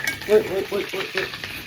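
Cumin and ginger garlic paste fry in Amul butter with a steady soft sizzle, stirred with a few light scraping taps over a short stretch, and a voice murmurs faintly beneath.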